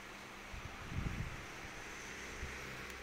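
A 30 cm chrome desk fan blows with a soft, steady airy hiss, close by and quiet, with a few faint low bumps near the start.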